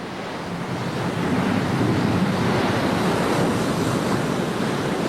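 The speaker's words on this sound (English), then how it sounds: "one sees the waves breaking and" Ocean waves break into foam, a loud, steady wash of surf rising slightly after the first second and rolling on without pause, with wind buffeting the microphone.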